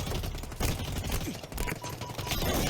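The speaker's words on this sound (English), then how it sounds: "It's like it's really punchy on gunshots, really punchy on like explosions." Rapid gunfire and punchy explosions from the Halo video game, dense and continuous with heavy bass, sounding like a sustained firefight with no speech.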